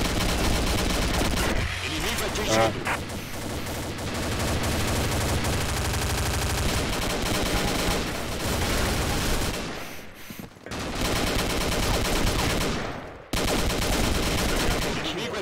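Rapid gunfire in a Combat Arms Arms Race match, dense bursts of shots close and loud almost throughout, with short gaps, and a brief voice exclamation.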